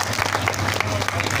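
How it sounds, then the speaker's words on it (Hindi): An audience at an Independence Day Hindi poetry recital claps loudly. The applause is a dense, continuous patter for a brief moment. "एक बार जोरदार ताली बजाइएगा"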